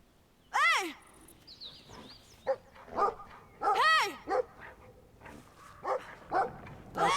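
A dog in the video game Brothers: A Tale of Two Sons barks and yelps in several loud, close bursts, with some whines between them and a brief game chime.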